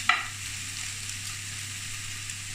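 Mince and vegetables frying in a pan, a soft, steady sizzle after a brief stir at the start, continuous and close.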